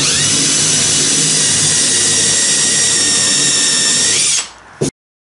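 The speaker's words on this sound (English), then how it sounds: "I'm just going to punch out these holes, countersink them more." A power drill boring and countersinking holes in wooden bulkheads of a wooden boat under construction, a loud, steady high whine held at close range that winds down and cuts off near the end.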